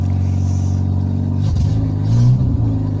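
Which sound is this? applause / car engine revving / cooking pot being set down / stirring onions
car engine revving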